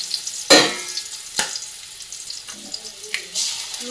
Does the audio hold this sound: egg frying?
yes